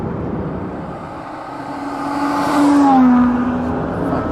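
Aston Martin One-77 engine running while warming up on a coastal road, a steady rumble that swells into a louder, rising rev near the middle before easing back.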